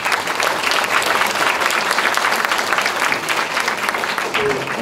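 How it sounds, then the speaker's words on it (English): Loud, sustained applause from a lecture audience for a professor after a talk on early childhood education, a dense steady wash of many hands clapping close by without a break. "Can we give Prof. Sparling a round of applause"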